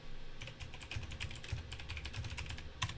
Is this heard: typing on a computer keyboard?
yes